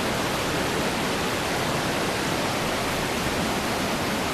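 A river in Pradis, Italy rushes past in a steady, dense wash of flowing water, loud and close, with no voices over it.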